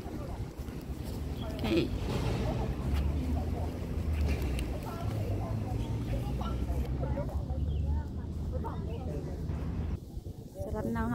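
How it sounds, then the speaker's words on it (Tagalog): Wind buffets the microphone outdoors on a walk toward a market, a steady low rumbling roar throughout, with people talking faintly in the background. "Sarap ng hangin, mahangin."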